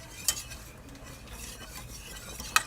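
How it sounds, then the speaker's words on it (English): A whisk stirring milk into mac and cheese sauce in a pan, a soft steady swishing with faint scraping and two sharp metallic taps, quiet and close with no talking. "you are going to whisk it until"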